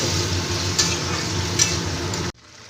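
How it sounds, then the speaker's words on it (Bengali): Water poured into a hot pan of rice, cauliflower and potato for a vegetarian dish, producing a loud, close, continuous hiss and sizzle that cuts off abruptly near the end, leaving quiet. "এবার আমি পরিমাণ মতন জল দিয়ে দিই জল দিয়ে ঢাকা দিয়ে রাখবো চালটা সেদ্ধ হওয়া পর্যন্ত"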